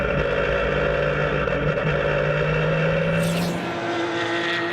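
Race cars running side by side on a racing circuit, a loud continuous engine drone with steady tonal whine, shifting in pitch near the end as one passes close.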